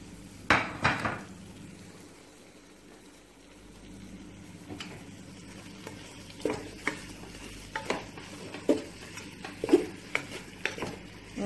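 Chopped medium tomato pieces tipped into a pot of Thalassery chicken biryani masala, with soft sizzling and stirring, scattered scrapes and clinks of a utensil against the pan, and no talking.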